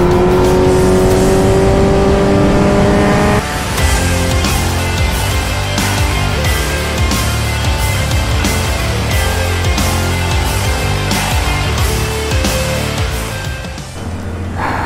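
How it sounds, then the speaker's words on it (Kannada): A Kawasaki Z900 inline-four superbike fitted with an Arrow full exhaust system roars loudly up close, holding a high rev before dropping into a rapid burbling, crackling exhaust note that fades toward the end. "ಆರೋ ಫುಲ್ ಸಿಸ್ಟಮ್ ತರ ಬೇರೆ ಯಾವುದು ಸೌಂಡ್ ಬರಲ್ಲ."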